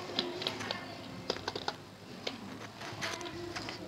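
Personal details are typed on a computer keyboard into a Word document, a steady run of soft, close key clicks with a few louder taps over a faint background hum.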